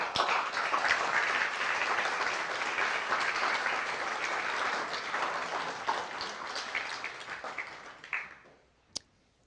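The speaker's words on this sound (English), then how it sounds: "Let's recognize our Forward Award winners with another round of applause" A large audience at a women-in-business awards ceremony applauds award winners, a sustained wash of many hands clapping that fades out near the end, followed by one sharp click.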